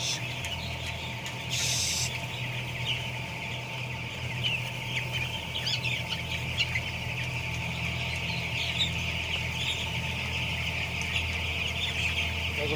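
Broiler chickens in a poultry farm shed give a steady, dense chorus of clucking and soft calls over a constant low ventilation hum, with no one talking.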